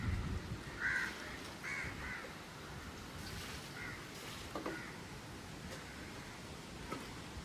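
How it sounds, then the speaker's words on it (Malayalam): A crow caws several times at a moderate distance against steady wind and outdoor background noise under a dark, rainy-looking sky. "കാക്ക ഒറ്റയ്ക്കിരിക്കോ കുറേ നേരം കൊണ്ട് പാവം"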